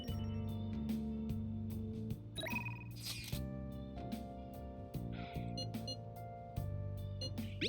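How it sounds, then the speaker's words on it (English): A phone notification chime from Persona 5 Royal rings out over steady game background music, a bright tonal alert standing out clearly for a moment. "By the way, got the notification on your phone."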